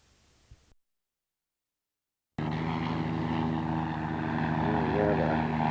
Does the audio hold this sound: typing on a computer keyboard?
no